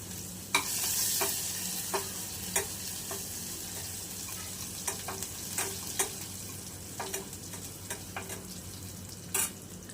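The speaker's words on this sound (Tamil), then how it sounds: "இப்போது இடித்து வச்ச 5 பல் பூண்டை சேர்த்து நல்லா வதக்கி விட்டுறலாம்" Crushed garlic, five cloves, sautés in a pan for prawn semiya, a steady close sizzle broken by repeated sharp scrapes and clinks of a spoon stirring against the metal, no voices.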